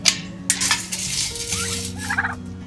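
Four turkeys gobbling close by outdoors in a backyard flock, several loud rapid gobble bursts overlapping one another alongside soft clinking and rustling.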